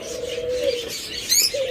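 Pet lovebirds or cockatiels kept in breeding pairs call with a sustained nasal tone and a few brighter chirps near the end, fairly close and continuous.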